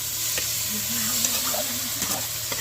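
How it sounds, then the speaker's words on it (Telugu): Chicken being stirred into fried masala in a pan, giving a continuous sizzle with intermittent scraping and clinks of a spoon, plus a faint hum in the background. "చికెన్ మొత్తం అయితే వేసుకున్నాం కదా చికెన్ వేసుకొని మొత్తం బాగా కలిగిచ్చేసుకున్నామండి"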